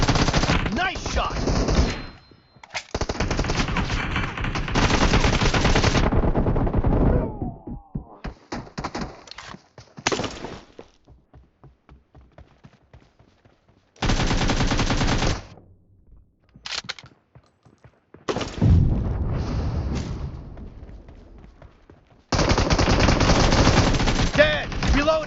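Bursts of automatic gunfire in a video game team deathmatch, loud sustained rattling volleys broken by short quiet gaps and scattered single shots.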